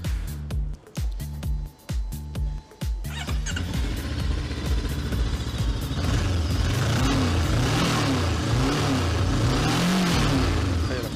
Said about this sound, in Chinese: 那你给咱点个火吧，咱听一下声音。